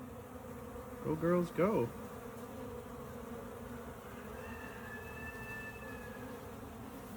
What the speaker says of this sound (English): The bees are kind of going crazy right now because of this honey I left out.